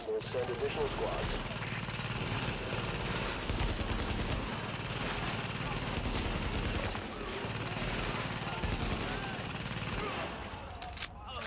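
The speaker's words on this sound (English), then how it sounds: "Reporting gunfire in the station above us." Dense gunfire from The Division fills a Grand Central Station firefight with continuous overlapping bursts and volleys, fairly faint overall and cutting off abruptly at the end.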